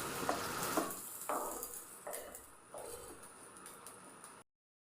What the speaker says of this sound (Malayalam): രണ്ട് ടേബിൾ സ്പൂണ് വെളിച്ചെണ്ണ കടുക് കറിവേപ്പില ഒരൽപ്പം